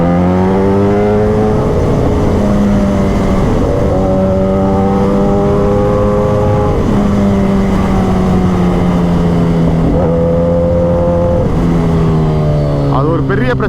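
Kawasaki ZX10R superbike with exhaust revving, a loud, steady engine drone whose pitch rises and falls in long sweeps, near and dominant throughout.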